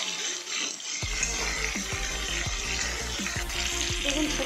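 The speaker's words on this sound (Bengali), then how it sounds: "এই তেলের মধ্যেই ফুলকপিগুলো দিয়ে দিচ্ছি। দিয়ে দিয়েছি ফুলকপিগুলো, আমি ফুলকপিগুলো হালকা ভেজে নেব।" Cauliflower florets frying in hot oil give a steady close sizzle, with a regular run of soft clicks and pops throughout and no talking.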